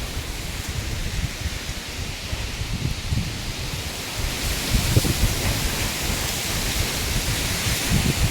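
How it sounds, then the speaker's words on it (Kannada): Strong gusty wind roars through swaying trees, a dense broadband rush of rustling leaves that swells louder midway and stays loud, with no voices. "ಎಷ್ಟು ಗಾಳಿ ಬರ್ತಾ ಅಂದ್ರೆ ಸೌಂಡ್ ನೀವೇ ಕೇಳಿಸ್ಕೊಳ್ಳಿ ಎಷ್ಟು ಜೋರಾಗಿ ಬೀಸ್ತಿತ್ತು ಅಂತ."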